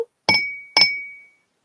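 Two thick-bottomed fluted glasses, crystal or glass, clinked together twice in quick succession, each strike a bright close ring that hangs on and fades slowly, with no one talking.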